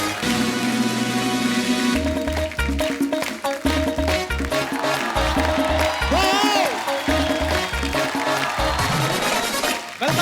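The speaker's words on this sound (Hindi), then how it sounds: "आप सबकी जोरदार तालियों के बीच please welcome mister Vicky Kaushal और साथ में फिल्म के डायरेक्टर मिस्टर शुजीत सिक्कार।" A studio audience at The Kapil Sharma Show applauds as guests Vicky Kaushal and director Shoojit Sircar are welcomed. Dense, rain-like clapping runs steadily under loud, beat-driven show music.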